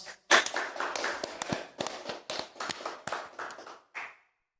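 A live audience at a talk show claps in short irregular bursts, with a sharp first clap and a ragged patter that fades, then one last clap.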